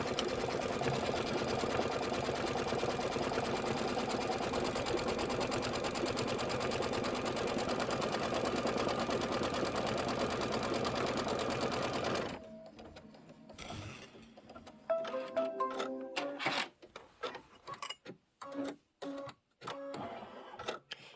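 A sewing and embroidery machine stitches a quilted boot design in cream thread with a loud, steady whir for about twelve seconds, then breaks into scattered clicks, thumps and short bursts of stitching.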